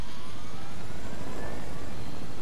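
Helicopter flying in the video game Fortnite, a steady, dense rotor and engine drone that stays loud and unbroken throughout with no talking.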